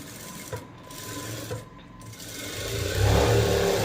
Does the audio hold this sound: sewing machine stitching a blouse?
yes